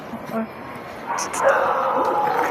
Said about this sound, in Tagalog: Ano ba may aso?